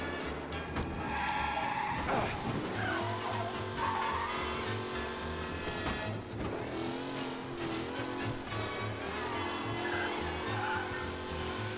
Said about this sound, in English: Of course I spun out.